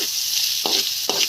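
Oil and spices crackle in a pan for a tempering before pasta sauce, a close, continuous sizzle broken by two sharp scraping stirs.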